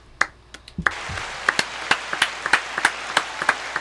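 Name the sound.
applause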